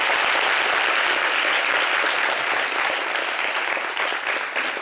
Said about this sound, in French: C'est la fête, on applaudit pour ça quand même.